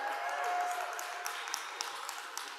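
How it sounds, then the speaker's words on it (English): Audience applause at an education conference keynote, a steady wash of many hands clapping in a large hall, moderately faint and continuous throughout. "So all of the people out there who just clap their hands"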